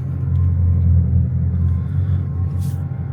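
A Bugatti Chiron Pur Sport's engine rumbles from inside the moving car, a loud, steady low drone with a slight swell and fall, with no speech over it.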